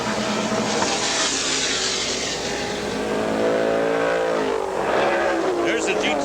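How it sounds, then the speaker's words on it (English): A Porsche 935 race car at Lime Rock during the 1982 IMSA Camel GT Coca-Cola 400, roaring loudly past with a sustained engine note that rises then drops as it goes by, with a race commentator talking over it throughout. "the out-and-out racing cars like the 935, which is coming up right behind Davendorf right now"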